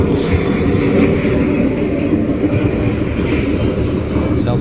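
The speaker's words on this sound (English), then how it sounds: "Sounds like some planes." Aircraft engines droning overhead, a loud continuous low rumble that stays steady throughout with no clear speech.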